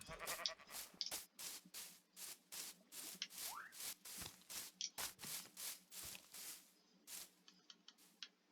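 Minecraft sheep bleating once or twice amid a dense run of rhythmic game footstep or digging clicks, moderately loud and near.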